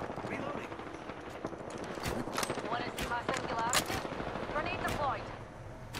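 Video game gunfire rattles in rapid bursts over a squad battle, repeated sharp shots at moderate level mixed with other game sounds and talking voices.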